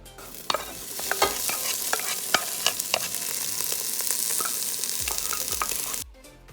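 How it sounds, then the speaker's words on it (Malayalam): Vegetables for a pulao stir-fried in a frying pan, a steady sizzle under repeated scraping and clinking of a spatula, close and continuous, ending abruptly. "ഞാൻ ഇതിനെയെല്ലാം മിക്സ് ചെയ്തിട്ട് നന്നായി ഫ്രൈ ചെയ്തെടുക്കുകയാണ്."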